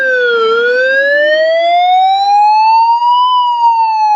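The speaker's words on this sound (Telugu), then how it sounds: "చూడండి, మీకు ఇక్కడ రెడ్ లైట్ వెలిగింది, అలాగే సైరన్ కూడా విపరీతంగా అయితే వస్తుంది." A Halonix smoke detector set off by incense smoke blares a loud, continuous siren tone that sweeps slowly up and down in pitch, close and alone.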